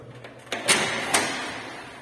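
A door fitted with an adjusted hydraulic closer swings shut slowly, ending in a few soft latch clicks and a muted thud, close by and with no talk.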